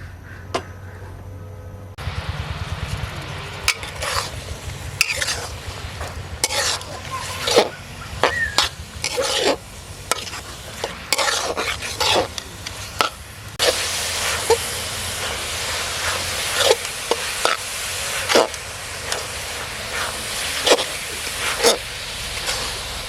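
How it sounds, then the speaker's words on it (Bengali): Grated coconut sizzles in a pan on a stove as a spatula stirs and scrapes it, a steady frying hiss broken by repeated sharp scraping clicks, growing louder and brighter midway. "বন্ধুরা, খুন্তি দিয়ে নাড়িয়ে চাড়িয়ে আমি নারকেলটা ভেজে নেব যতক্ষণ পর্যন্ত এর গা থেকে জলটা না শুকায়।"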